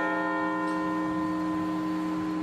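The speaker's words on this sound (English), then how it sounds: "With the tolling of a bell," A memorial bell tolls at a 9/11 remembrance ceremony in Maryland on the attacks' 15th anniversary, a steady sustained ring with long-decaying overtones filling the space, with no voices over it.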